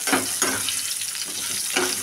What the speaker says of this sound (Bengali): এবার আলুগুলো একটু ঢেকে সেদ্ধ হতে একটু ভাজা হতে দেবো।